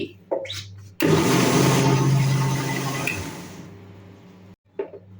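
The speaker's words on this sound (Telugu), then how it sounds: "మిక్సీ చేసేటప్పుడు చల్లటి నీళ్ళు కొద్దిగా పోసుకొని మరొకసారి మెత్తగా మిక్సీ చేసుకోండి" Mixer grinder blending soaked dal batter with a little cold water: a loud, steady whirring grind starts abruptly, runs for about three and a half seconds with a slowly easing motor hum, then cuts off, with brief handling noises before and after.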